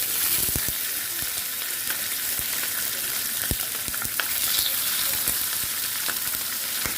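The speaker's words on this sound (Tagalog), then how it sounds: "Yan, mayroon tayong konting mantika na naiwan dyan. Lagyan natin ang isda." Fish frying in a shallow layer of leftover cooking oil, a steady close sizzle with frequent sharp pops and crackles throughout, no voices.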